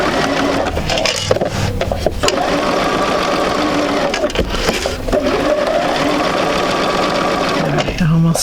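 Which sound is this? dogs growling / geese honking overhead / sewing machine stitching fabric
sewing machine stitching fabric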